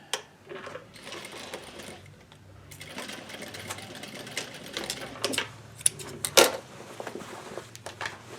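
A sewing machine runs in quick bursts stitching a tapering dart on denim jeans, close and clattery with brief pauses and handling noise between runs.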